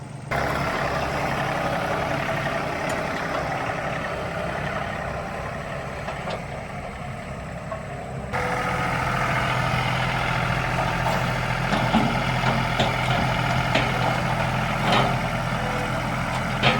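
Truck engine idling on a farm pasture, a steady low rumbling drone that holds constant, growing slightly louder and rougher partway through as the engine note shifts.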